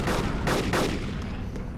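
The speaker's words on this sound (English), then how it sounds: "Guns? Like gunfire" Bursts of rapid gunfire from a multiplayer video game, loud and close, with two strong volleys followed by weaker shots over a steady noisy background.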